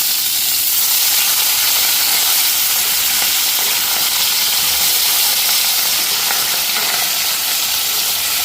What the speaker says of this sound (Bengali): এদিকে মাছটাও একটু ভাজা হয়ে গেল।